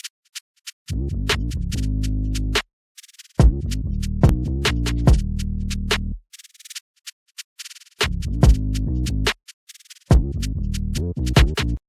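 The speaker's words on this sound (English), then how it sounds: "This is how they sound with the 808." A drill beat programmed in FL Studio with kick, snares and a heavy 808 bass, loud sliding bass notes and sharp snare hits playing in bursts separated by short silences, no talk.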